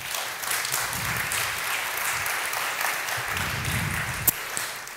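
An audience breaks into steady applause to welcome a speaker onto the stage at an augmented reality event, a dense, even wash of clapping lasting throughout.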